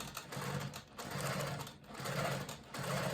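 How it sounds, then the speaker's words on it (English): A longarm quilting machine stitches binding toward a quilt corner, its needle running in a fast steady mechanical whir that pauses briefly twice before resuming, close and even. "Bring my machine on, bring up my bobbin thread. Stitch to the corner"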